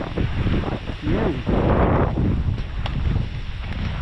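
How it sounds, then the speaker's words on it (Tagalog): Gusty wind buffets and roars across the microphone, rising and falling in loud rushes with no clear speech. "Ang hangin lang po dito."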